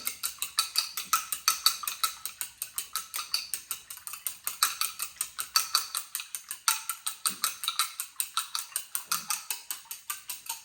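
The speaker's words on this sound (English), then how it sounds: "I'm going to just use my chopsticks to whisk the egg" Chopsticks whisk egg in a bowl with fast, steady rhythmic clicking and tapping, close and fairly loud, running continuously with no talking.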